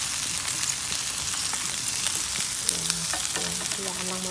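Chicken feet sautéed in a pan for adobo, a dense continuous sizzle of hot oil with occasional spatula scrapes and light clinks, close and steady throughout.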